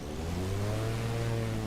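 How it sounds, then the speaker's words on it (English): Cessna 414AW Chancellor piston engine running in a flight simulator, a steady loud drone with a low humming tone and a slight rising pitch, heard alone without talk. "Engine sound."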